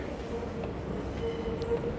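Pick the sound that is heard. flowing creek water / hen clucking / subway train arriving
subway train arriving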